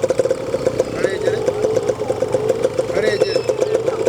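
A motorcycle engine idles at a riding practice ground where a young woman is learning to ride for the first time, a close, steady pulsing chug with voices talking over it.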